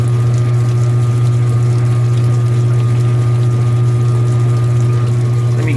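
2017 Speed Queen washing machine on a spray rinse, pumping water out in a steady, loud humming drone with a faint watery trickle, running alone for several seconds without speech.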